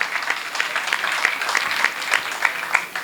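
Loud applause breaks out for a poet at a Punjabi university poetry gathering, a crowd clapping briskly with distinct sharp claps standing out, continuing for a few seconds without speech.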